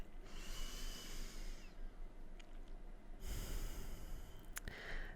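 Deep, slow breaths held in a yoga bridge pose, two long inhale-exhale waves close to the microphone with a brief sharper intake near the end.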